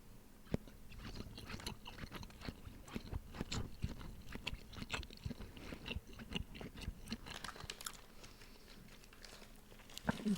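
Close, wet chewing of squeaky cheese curds right up at the microphone, with rapid crunching bites and mouth noises repeating steadily and no talking.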